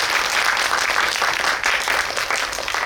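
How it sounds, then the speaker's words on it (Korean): Audience at a post-screening talk with the director and actors of the film Aloners gives a big round of applause, a dense, even wash of clapping that fills the room at steady volume for a few seconds. "마지막으로 박수 크게 보내드리면서 마치겠습니다."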